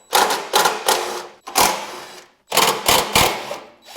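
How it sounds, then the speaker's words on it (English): A power tool with a 5/16 socket backs out the bolts holding the recoil starter on a snowblower. It gives three groups of short, sharp ratcheting bursts, close and loud, separated by brief pauses. "We gotta take them out. I'm using a 5/16 socket."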